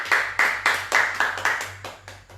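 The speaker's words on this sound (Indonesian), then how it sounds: "Kasih tepuk tangan dulu buat Tuhan kita" A church congregation claps in unison, about eight loud, evenly spaced beats in a steady rhythm, each clap followed by a short decay, with a low hum underneath.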